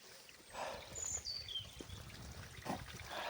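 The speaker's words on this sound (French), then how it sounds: "Là on va vers le ruisseau." A small stream trickles and burbles near the ruins of an old abandoned village, a soft continuous water wash with faint outdoor ambience and no talk.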